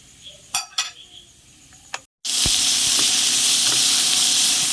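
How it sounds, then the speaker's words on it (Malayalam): Chopped tomatoes and green chillies dropped into a hot pan for an omelette set off a loud, steady sizzle and hiss, preceded by a few clinks of utensils and a short silent gap. "നമുക്ക് നന്നായിട്ട് വഴറ്റി കൊടുക്കാം"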